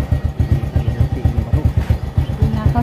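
A motorcycle engine thumps in rapid, even pulses while the bike is ridden slowly, close and fairly loud throughout with no talk.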